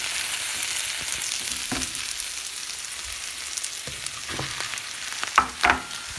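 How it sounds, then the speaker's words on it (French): Chopped onion with minced meat frying in a pan for homemade Turkish borek makes a constant close sizzle, with occasional spoon scrapes and a couple of louder knocks near the end and no voices. "Et on va faire revenir. Quand ça va être doré, on rajoute la viande hachée."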